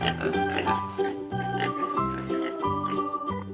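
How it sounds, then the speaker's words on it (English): A pig oinks in a children's farm-animal song, a few short grunting snorts set over bright music. "It's a pig."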